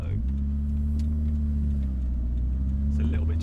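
A Peugeot 205 GTI's engine is heard from inside the car while driving, a steady low rumble with a humming harmonic drone that holds nearly level for a few seconds.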